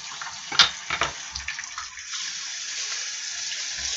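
Water running from a tap as a face mask is rinsed off, with a few close splashes early on, then a steady gentle flow of running water.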